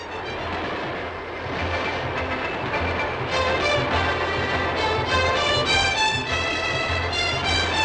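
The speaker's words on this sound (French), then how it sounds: "notre train a maintenant atteint sa vitesse de marche" The Le Mistral passenger train runs on its rails at a steady 140 km/h cruising speed, a continuous rumbling roar heard close from on board with a rising, whining tonal layer, no talk.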